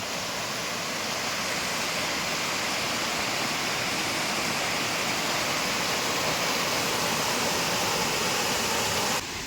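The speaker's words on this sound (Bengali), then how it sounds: "জলটা এখান দিয়ে ওয়াটারফলটা হয়ে এই দেখো এইখান দিয়ে এভাবে বেরোচ্ছে" A waterfall in Darjeeling pours continuously, a dense, loud, broadband rush of falling water that holds steady from start to finish with no voices.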